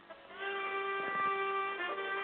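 A mobile phone ringing in the background during a remote interview, a steady electronic tone with sustained harmonic pitches lasting the whole two seconds at moderate level.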